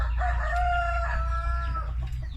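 A farm rooster lets out one clear, close crow with a drawn-out harmonic call, while other chickens cluck softly behind it during late-afternoon feeding.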